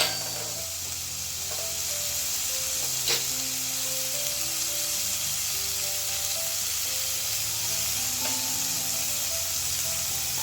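Onions fry with turmeric in a pan for a Maharashtrian kanda zunka, giving a steady close sizzle throughout with a few faint stirring scrapes and no talk.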